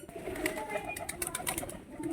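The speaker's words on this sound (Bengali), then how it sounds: "এই হচ্ছে সেই প্রসেনজিৎ দার বাড়িতে কি কি পায়রা আছে সেগুলো তোমাদের আজকে দেখাবো" Soft pigeon coos murmur through a busy, noisy background of rustling and scattered higher chirps, fairly faint throughout.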